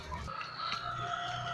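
Chickens in a backyard poultry yard cluck and murmur close by in a brief burst during egg collection, several birds vocalizing over a soft farmyard background.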